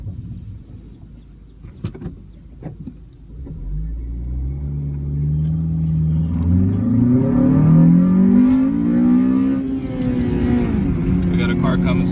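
A 2010 Honda Civic Si engine with a short ram intake revs up from a low rumble, its tone climbing and swelling louder as it hits VTEC, then holding a strong roar, heard up close.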